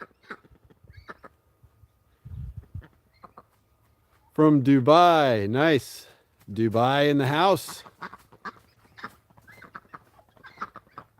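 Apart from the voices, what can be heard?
homestead ducks quacking and hens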